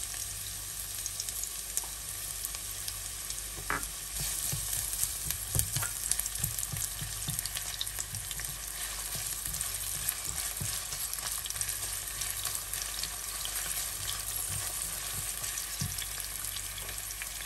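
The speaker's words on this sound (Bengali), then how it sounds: "এখন এখানে একটা ফ্রাই প্যান নিয়েছি, দিয়ে দিব হাফ কাপ অলিভ অয়েল, তার সাথে দিয়ে দিব 1 কাপ হোয়াইট অনিয়ন কুচি" Chopped white onion fries in olive oil in a frying pan with a steady, fairly quiet sizzle, joined now and then by scattered pops and the light scrape of stirring, heard alone without talk.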